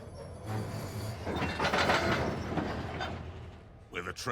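A full-size electric train approaches, a rumbling rail clatter building and swelling across a few seconds, moderately loud, with voices present.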